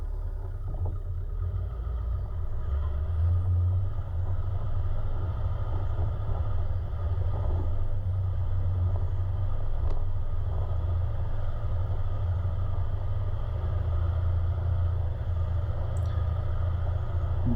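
Toyota LandCruiser 76 in low range on a steep mountain track, its engine drone steady and close inside the cab as the driver drops down a gear, a low continuous rumble with no talk.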